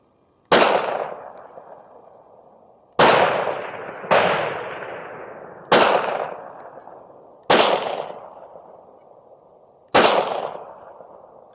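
A Glock pistol fires LAX ammunition at a target about 15 yards away: six loud, sharp gunshots spaced a second or two apart outdoors, each with a long decaying echo, no talking.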